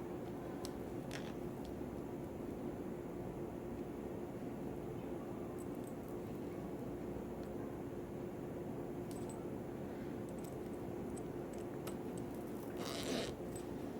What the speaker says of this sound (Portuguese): Fechei os dois lados do zíper, vou colocar de novo o cursor e parar com ele aqui no meio.